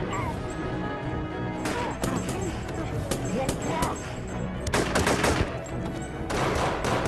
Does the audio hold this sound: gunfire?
yes